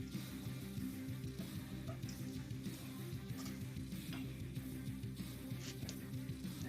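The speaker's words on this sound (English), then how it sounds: "Give that a stir." Mushrooms sizzle and crackle in a hot frying pan while being stirred, a soft, steady frying hiss with light scraping underneath and a low hum in the background.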